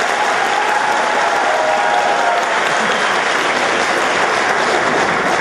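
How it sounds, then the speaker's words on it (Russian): An audience of students bursts into sustained, even applause, a thick wash of many hands clapping at constant loudness with no break. "аплодисменты вам"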